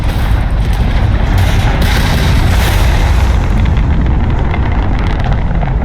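Ship weapons firing during space ship combat against a Crimson Fleet vessel in Starfield: a loud, dense, continuous rumbling barrage of booms and blasts filling the whole stretch without pause.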